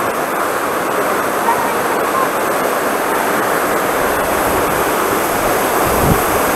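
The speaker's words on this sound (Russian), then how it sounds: "Ну, вот такой водопад." Water roars steadily and loudly at the Honey Waterfalls near Kislovodsk, a dense unbroken rush that fills the whole stretch close by, with faint wind buffeting underneath.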